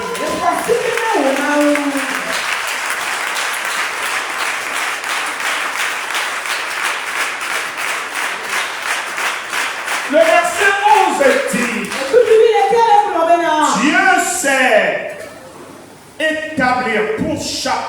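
A church congregation breaks into sustained, loud applause with dense rhythmic clapping, while a preacher's voice rises over it later in the stretch.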